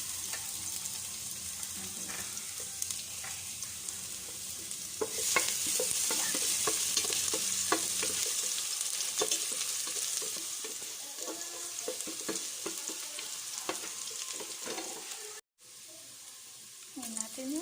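Garlic drops into hot oil for a corn soup and sizzles loudly, then frying continues under repeated scraping stirs of a utensil against the pan, with a brief cut near the end.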